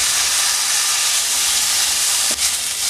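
Chopped tomato sautéing in a hot pan for a soya chunks roast gives a bright, hissing sizzle that runs steadily, with one brief dull knock of a utensil near the end.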